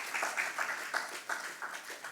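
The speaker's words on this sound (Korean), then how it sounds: "우리 환영한 박수 한번 부탁드리겠습니다" A church congregation claps to welcome a first-time visitor during Sunday announcements, a soft, steady patter of scattered hands with a few louder claps, moderately distant.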